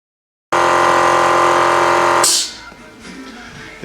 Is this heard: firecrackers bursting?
no